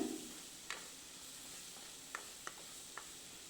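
Tomatoes sautéing in a pan with asafoetida for a spinach-style greens kadayal, a low steady sizzle broken by four or five light spatula scrapes and taps, fairly quiet, no talking.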